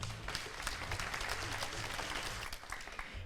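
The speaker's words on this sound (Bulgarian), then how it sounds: "Аплодисменти!" Applause from the audience at a Balkan folklore championship ceremony, a broad, steady wash of many hands clapping at moderate distance, continuous for a few seconds with no speech over it.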